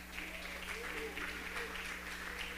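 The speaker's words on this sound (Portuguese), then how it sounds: "Você pode aplaudir a Jesus?" A church congregation at a miracle-school service breaks into applause, a soft, diffuse patter of many hands clapping that stays steady and fairly distant, with a low hum running underneath.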